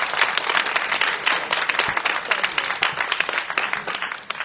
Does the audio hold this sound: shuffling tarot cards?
no